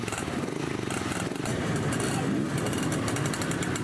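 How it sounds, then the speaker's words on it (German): Several Simson off-road motorcycles spanning five decades run on a motocross track used as a special test, their two-stroke engines buzzing loud and continuous with layered overlapping revs close by. "Eine stattliche Zahl Geländesportmotorräder aus 5 Jahrzehnten geht an den Start."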